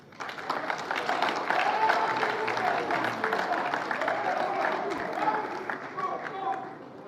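A crowd at a book launch for footballer Asamoah Gyan claps in a dense, steady burst that lasts several seconds at moderate distance, with voices mixed in under the applause.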